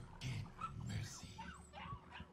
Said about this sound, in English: I'm taking food off a dog that's got puppies.